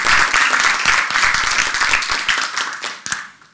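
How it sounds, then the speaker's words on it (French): Audience at a French festival talk on music and cinema applauds to welcome a guest, loud close clapping from many hands that holds steady, then thins and fades out near the end. "Merci d'accueillir et d'applaudir Alexandre Tilski."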